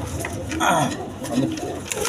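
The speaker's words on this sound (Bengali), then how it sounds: "কবুতর একদম সুস্থ সবল।" Healthy pigeons coo softly in their housing, producing a few low, throaty murmurs mixed with rustling while someone talks over them nearby.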